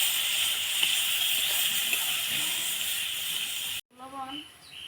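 Beef masala with turmeric and chili powder cooks down in a pan with added water, giving a steady loud hiss and sizzle for several seconds before cutting off abruptly, followed by a brief tonal sound.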